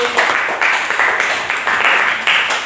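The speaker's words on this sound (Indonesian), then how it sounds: "Tepuk tangan dulu." A classroom group claps in rhythmic bursts, loud and close, the applause pulsing steadily for a few seconds.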